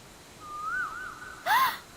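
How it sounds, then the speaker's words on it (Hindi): An Asian koel calls outdoors in a scenic spot: a couple of clear, rising whistled notes, the second burst louder and brighter, with no talking over it. "ये तो कोयल की आवाज है।"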